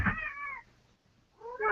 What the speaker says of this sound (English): I'm gonna let my cat in.